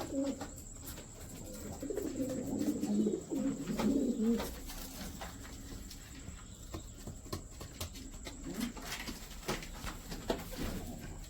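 Young pigeons coo softly in a pigeon coop, a low warbling burst in the first few seconds that fades into quieter scattered coos and faint shuffling.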